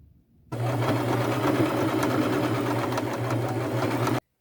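Sewing machine running in one steady, continuous burst of stitching, stitching a fringe lace purse in gold thread with a semi-small stitch; the motor hum is loud and close, with no talk.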